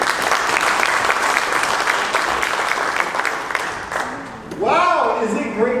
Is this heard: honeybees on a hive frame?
no